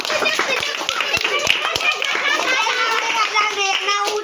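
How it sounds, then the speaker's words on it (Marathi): A handful of sharp hand claps ring out one after another at a village gathering, heard over a continuous murmur of talking voices, with children's chatter among them. "टाळ्या वाजून द्या, टाळ्या."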